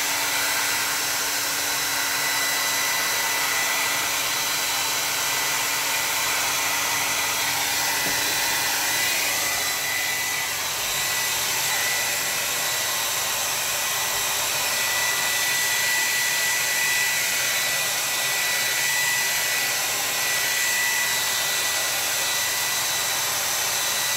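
A handheld hair dryer blows steadily at close range over a wet watercolor painting, a loud continuous whoosh that holds for the whole stretch with slight shifts as it moves across the paper.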